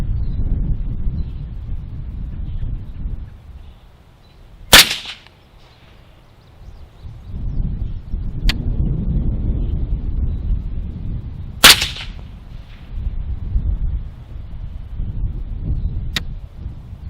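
Suppressed shots from an AR15 rifle fitted with a Gemtech Integra silencer on an outdoor range: two sharp cracks spaced several seconds apart, each followed later by a fainter snap, over low rumbling wind noise.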